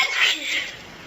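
A single short, breathy sneeze bursts out in a chilly classroom during a lesson, close and brief, with faint room noise after it.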